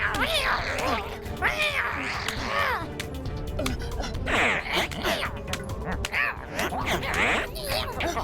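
A cartoon cyborg cat meows repeatedly amid a busy, noisy scene with voices and other sounds layered over it.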